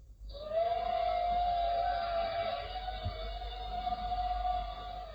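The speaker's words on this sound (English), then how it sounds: "then you will hear the hum of drones in the sky." A steady mechanical drone hums at one sustained pitch, fading in and holding evenly for several seconds like distant aircraft overhead.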